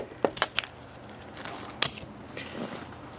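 Tin snips cut the ear off a metal headlight adapter for an H4 bulb on a Honda ST1100 motorcycle, several sharp close snips in a quick cluster, then a short gap and one more crisp cut.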